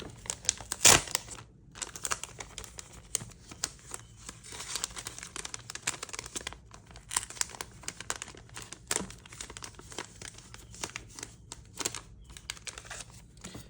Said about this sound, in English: put this all back in its very nice plastic bag